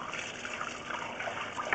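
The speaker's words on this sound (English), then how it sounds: "you can see the flow of water going downstream towards the main" Water is poured into a sewer line cleanout and flows steadily, a continuous rushing trickle with a hollow gush, moderately loud and uninterrupted, no voices.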